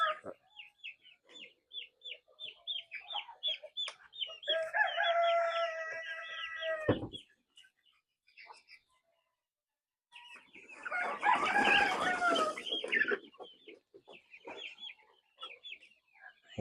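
Backyard flock of Plymouth Barred Rock, Silkie and native chickens: rapid nearby clucking runs through, broken by two loud, drawn-out rooster crows, one early and one later.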